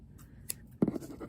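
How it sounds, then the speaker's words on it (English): Scissors snip through fabric with a short, close, crisp cut, then a brief rustle of the cloth. No one speaks. "So I'm just going to cut it."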